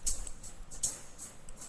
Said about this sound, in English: This is the sound of tambourine